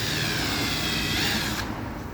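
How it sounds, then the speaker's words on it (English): A drill bores into a car headlight assembly with a constant close, loud whirring grind that cuts off near the end. "you want to drill a hole"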